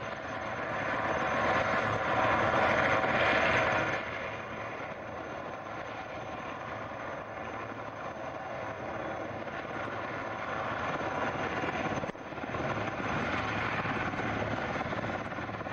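Sea King helicopter hovering to lift marine commandos from a shore at a defence expo demonstration, a steady loud rotor and engine roar that continues throughout, with no talking.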